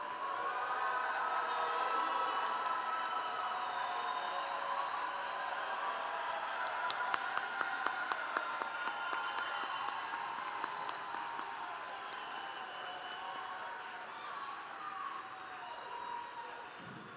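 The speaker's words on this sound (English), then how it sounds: "I think our graduates deserve another round of applause." A crowd applauds graduates at the Clark Atlanta University School of Education master's and doctoral hooding ceremony, with broad, continuous clapping that lasts many seconds, a few sharper claps and possible whistles in the middle, then slowly thins out.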